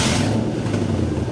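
Lexus V8, 22 years old, revs loudly in an empty parking lot, a brief, strong, close engine roar holding steady for just over a second.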